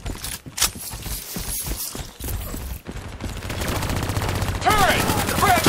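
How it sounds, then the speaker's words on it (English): Turret gunfire in Call of Duty: Black Ops 3, loud, rapid bursts of automatic fire that build into a sustained stream, with battlefield clatter and voices mixed in. "We need to deal with that turret."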